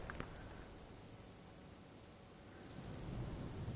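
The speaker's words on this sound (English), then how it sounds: "How nice that the rain is in the cutscene when it's raining." Steady rain hiss with low rumbling thunder swelling toward the end, plus a brief sharp crack near the start, in an Elden Ring video game cutscene.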